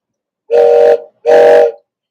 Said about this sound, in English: Before she comes, I'll blow the train whistle